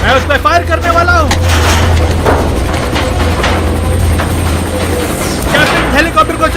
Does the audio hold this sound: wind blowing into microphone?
no